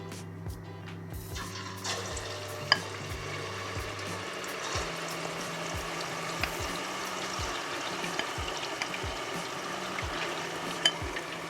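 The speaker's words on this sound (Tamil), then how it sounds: "கோழியும் நல்லா பொரியட்டும்." Chicken frying in a pan of oil, a steady soft sizzle and bubbling running throughout with occasional light clinks of a utensil stirring.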